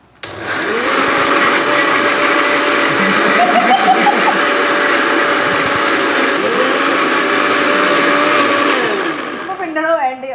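A kitchen mixer grinder runs loud and steady, blending rice with beef birria, its motor whine holding a constant pitch before winding down at the end.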